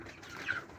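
White chickens clucking in a backyard flock of about twenty birds, a short burst of soft hen clucks and calls close by, with no talking.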